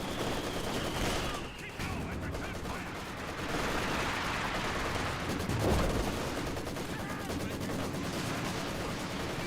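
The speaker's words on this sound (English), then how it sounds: "He's barraging the line." Artillery barrage in Company of Heroes 2 falls on a defensive line, heard as a dense, continuous wash of explosions and gunfire, with a heavier thud midway, all under steady game noise and occasional commentary.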